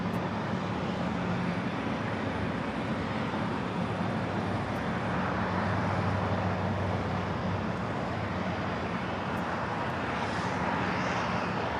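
A Philippine Airlines Boeing 777-300ER pushing back at LAX, a continuous broad jet engine roar and whine, steady and moderately distant throughout, with no voices over it.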